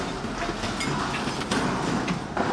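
Continuous rumbling and clattering of a train moving along rails, loud and close, with steady broadband noise and a few sharper knocks.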